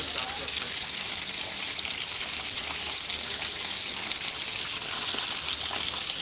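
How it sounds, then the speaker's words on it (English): A small waterfall at Disney's Animal Kingdom gives a steady, close rushing gush of water, even and unbroken, with a voice talking faintly over it. "One of my favorite little waterfalls here."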